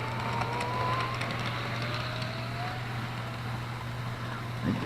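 A Bachmann toy electric train at full throttle whirs steadily on a rug, a low motor hum with a faint rising whine drifting across, fairly quiet and continuous.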